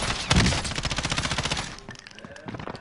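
Rapid automatic gunfire in a first-person shooter rattles in a fast, even burst of close, loud shots, then cuts off into quieter background game noise with a couple of distant pops.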